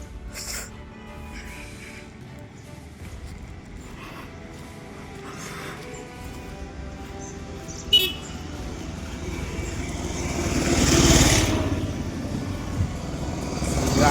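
Motorcycles and other vehicles pass along a road beside a pilgrimage walk, with a continuous traffic rumble and one louder vehicle swelling past near the end. Voices can be heard faintly beneath the traffic.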